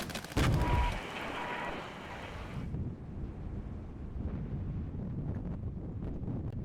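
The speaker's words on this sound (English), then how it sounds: "Let's quickly call in artillery on them." An artillery strike called in during the Cold War strategy game Regiments lands with a single deep, heavy thump. A hissing, windy rumble trails after it and fades into a quieter low battlefield drone.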